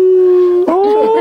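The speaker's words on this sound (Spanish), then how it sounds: "Un coyote" A coyote howls loud and close in one long, steady sustained note that wavers slightly and rises near the end, with no other sound around it.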